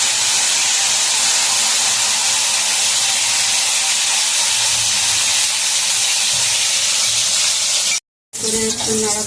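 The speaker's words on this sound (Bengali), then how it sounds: "ভেন্ডিটা ভেজে দেবো।" Okra (bhindi) fries in hot oil in a home kitchen, a loud, close, continuous sizzling hiss that runs steadily and cuts out for a moment near the end before resuming.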